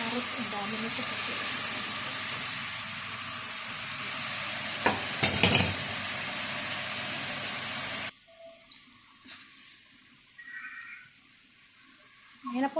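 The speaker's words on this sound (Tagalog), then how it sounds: "nilagay ko na yung carrots at saka yung bell pepper" Carrots and bell pepper sizzle in a pan with macaroni and chicken, a steady loud frying hiss with stirring clatter that drops away abruptly, leaving quieter kitchen sounds and a voice.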